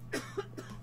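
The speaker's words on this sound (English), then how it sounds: "We're coughing black stuff." A video game character in The Final Station coughs, three short rough bursts spaced evenly over a low steady hum, fairly quiet and close.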